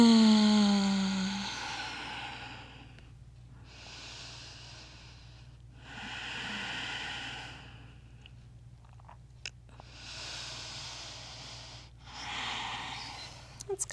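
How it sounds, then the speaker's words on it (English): Slow, deep breaths drawn in and let out during a yoga class rest, four or five long airy swells spaced a few seconds apart, soft and close with a low steady hum underneath. "Five deep breaths"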